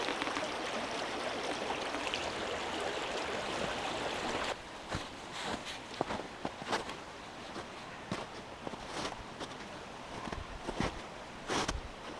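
Water rushes steadily for several seconds, then fades lower as scattered soft footsteps and rustling take over.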